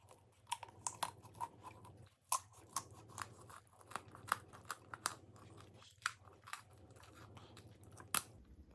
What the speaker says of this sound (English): I've cut right through the ribs rather than this very thick bone